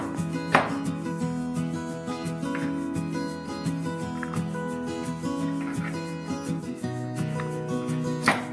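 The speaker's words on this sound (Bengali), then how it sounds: "রসুনগুলো কুচি করে নিচ্ছি।" Garlic cloves are finely chopped with a knife for a soya chunk kofta curry, making sparse, sharp taps that sit under steady background music.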